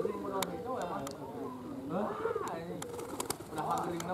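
Racing pigeons at a training ground coo and call repeatedly in a busy outdoor setting, with people talking throughout over a steady background hum.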